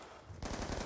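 Burst of MTAR assault rifle fire in the video game Black Ops 2, rapid loud automatic shots starting abruptly partway through and continuing to the end, with no talk.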